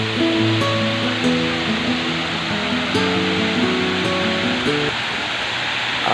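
Steady, full rushing water from a waterfall at Hinulugang Taktak nature park fills the scene as a constant roar, with music playing over it.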